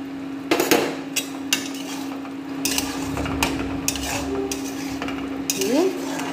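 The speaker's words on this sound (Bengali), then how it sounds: "এবার আমি পুরো কর্নফ্লাওয়ার মিশ্রণটা দিয়ে দেব।" Cornflour mixture is stirred into Chicken Manchurian in a pan with a steady hum underneath, while a spoon scrapes and knocks against the metal in several sharp clinks and a gentle simmer goes on.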